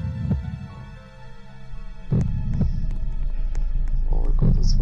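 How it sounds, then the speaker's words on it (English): A heavy, throbbing heartbeat in the video game Black Death (old beta) pulses low and steady under a continuous hum, with a few sharp clicks and faint game noises layered on top. "Why is my heart beating so?"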